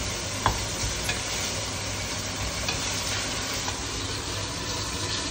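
King fish head frying in a pan until crisp and brown, a steady, loud, dense sizzle that holds evenly throughout, with a faint tap or two of a utensil near the start and no talking.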